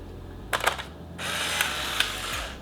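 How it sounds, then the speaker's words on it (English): A Polaroid Spectra instant camera whirs as its motor ejects a print, with a brief mechanical burst followed by a steady motor drone, close and alone. "it finally spit out the film, so now you have 2 exposures in 1 photo"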